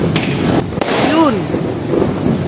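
New Year fireworks and firecrackers going off in Makati, a sharp bang near the start among a noisy, wind-buffeted street background with some distant pops.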